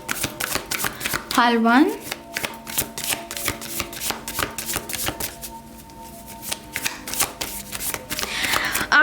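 Tarot cards shuffled and handled close by, with rapid riffling bursts and papery flicks and taps as someone talks over them.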